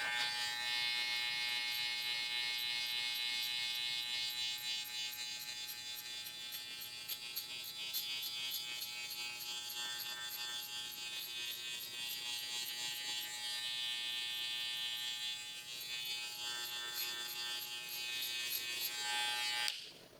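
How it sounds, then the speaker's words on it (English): An electric hair clipper buzzing continuously while cutting a mid drop fade, a steady close, high-pitched hum with slight changes in load as it moves through the hair, then cutting off at the end. "Now with my half guard on my clipper extended, I'm close to a 1 guard"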